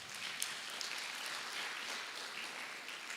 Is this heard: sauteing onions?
no